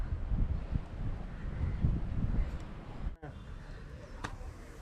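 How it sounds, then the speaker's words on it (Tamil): Strong, gusting wind on a mountain trek, roaring and buffeting close to the microphone in uneven surges, with a brief dropout partway through and faint voices in the background. "காற்று அட்டிக்கிற காற்று அவ்வளோ ஃபோர்ஸாக இருக்குது"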